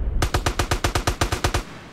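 Rapid automatic machine gun fire in GTA, a steady burst of about a dozen evenly spaced loud shots lasting under two seconds, with no talking over it.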